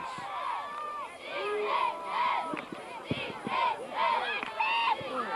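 Crowd at a boys' soccer finals match, voices cheering and shouting in rising bursts at moderate distance, with a commentator talking over the noise.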